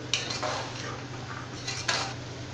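Mint and coriander are stirred into a pot of chickpea pulao, with a few soft metal scrapes and clinks from a spoon against the pot, quiet and close.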